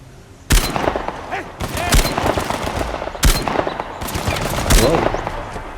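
Pistol shots ring out in the Uncharted: The Lost Legacy video game in the Western Ghats, several loud sharp bangs spaced a second or so apart over a busy rumbling game soundscape.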